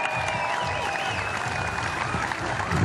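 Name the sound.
audience applause for women's champion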